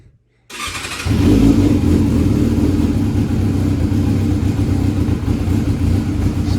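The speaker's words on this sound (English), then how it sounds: "it might need choked a little bit right now because you can kind of hear the way that it's idling" A 2005 Yamaha YZF600R sport bike engine cranks briefly and catches, then settles into a loud, steady, slightly uneven idle running close by without a break.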